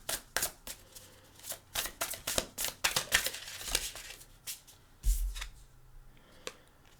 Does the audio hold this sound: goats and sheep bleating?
no